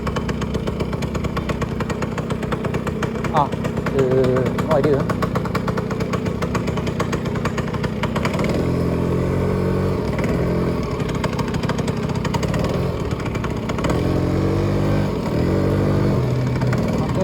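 Motorcycle engine running steadily throughout while riding slowly through streets in Malaysia, loud and close with throttle changes, someone speaking briefly over the engine.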